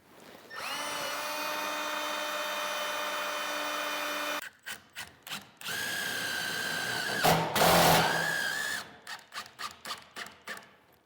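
Power drill pre-drilling holes in wood for a large barn door build: two long whining runs with rising pitch, then a string of short stop-start bursts, close and loud.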